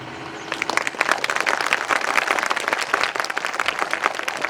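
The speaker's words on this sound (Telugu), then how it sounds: "జాన్సన్ విక్టర్ గారు వచ్చారు, చప్పట్లు కొట్టండి అన్నాను అనుకోండి, కొట్టండి." An audience at a meeting claps together, a dense, steady patter of hand claps that starts within the first half second and holds up for the whole stretch with small surges and dips.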